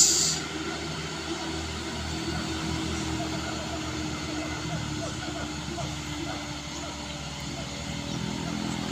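A heavily loaded truck carrying building materials such as iron bars labours up a steep hill, its engine droning in a low continuous roar that stays loud and steady throughout.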